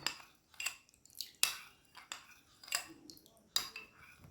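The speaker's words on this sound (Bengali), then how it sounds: "আর এক চামচ চিনি দিয়ে আমি মিশিয়ে নিলাম" A spoon stirs sugar into milk for mango custard, clinking against the container in several sharp, irregular taps at close range, with no talking.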